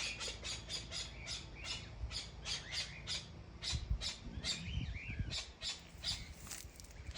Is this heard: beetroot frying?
no